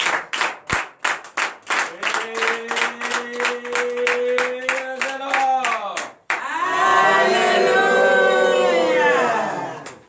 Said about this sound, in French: je vous invite encore à donner une vive acclamation à l'Éternel.